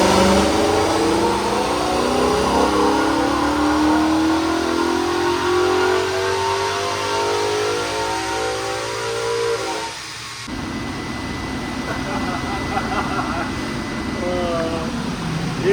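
A tuned Genesis 5.0 V8 with stage 1 tune and aftermarket intake revs hard on a dyno, rising steadily in pitch for about ten seconds before backing off, with loud whine and roar throughout.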